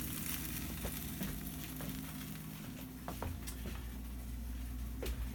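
Quesadilla frying in a pan, a steady close sizzle with occasional sharp crackles and pops.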